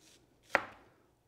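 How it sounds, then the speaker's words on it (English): A kitchen knife makes one sharp chop through an onion on a cutting board, cutting half-inch slices guided by a ruler during a culinary arts demonstration; the single crisp strike stands alone in a quiet room. "we take an onion and cut it again by the use of the ruler"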